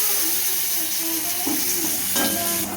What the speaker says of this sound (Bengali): এবার আমরা 5 ফোড়ন দেব কড়াইয়ে, একটা শুকনো লঙ্কা দেব, একটু তেজপাতাও দেব।